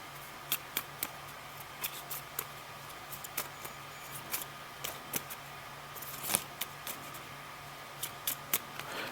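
Cards from the Legendary Encounters Matrix card game are shuffled by hand, quiet crisp riffles and snaps arriving in irregular bursts, close and alone against a faint hum.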